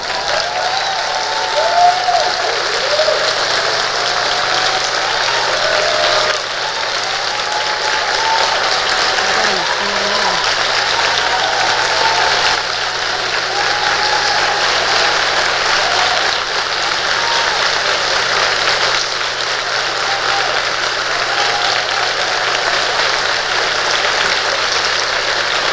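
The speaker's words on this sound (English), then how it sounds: "Can we give them a round of applause?" A conference audience applauds in a long, steady round of clapping that carries on evenly throughout, with faint voices and background tones in the hall under it.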